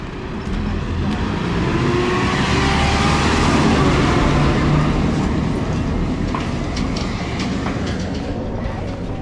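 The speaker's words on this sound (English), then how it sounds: "Oh, here comes a tractor the other way." A tractor passes the other way on a country road near Dufton along the Pennine Way, its loud engine rumble swelling close by and fading slightly as it goes.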